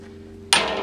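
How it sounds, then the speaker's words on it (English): Single sharp metallic hammer strike on a new sawmill saw blade, loud and close, ringing briefly after a quiet hum. "Hammer your blade."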